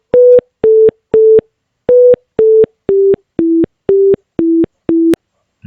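A simple computer-synthesized ringtone melody, ten evenly spaced electronic beeping tones with a brief pause after the third, clean and close.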